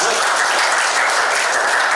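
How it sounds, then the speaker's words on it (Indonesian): A crowd at a training session claps together, a dense, even wash of applause that stays loud and close throughout, with no voices standing out. "Oke, tepuk tangan."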